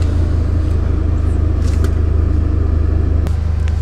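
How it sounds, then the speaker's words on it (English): Steady, loud engine drone and road rumble inside a 730-horsepower MTM-tuned Audi RS6 sedan driving at speed, a constant low hum with no clear revving changes. "So we are in a MTM Audi RS6 with 730 horsepower"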